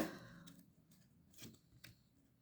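Tarot cards are shuffled in a final shuffle, giving a few soft, close riffling swishes in separate bursts, each quiet and brief, with no one talking.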